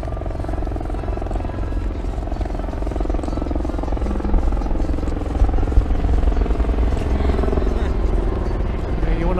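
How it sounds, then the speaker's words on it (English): A helicopter's steady low rotor thrum fills the scene over Fremont Street East in Las Vegas at night, loud and continuous, with voices talking over it. "Always worry when you got a helicopter overhead."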